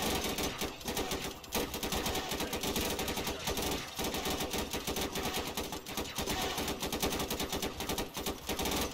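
Dense, rapid automatic gunfire from soldiers shooting at a shielded droideka in Garry's Mod rattles almost nonstop, loud and close, with short gaps between overlapping bursts.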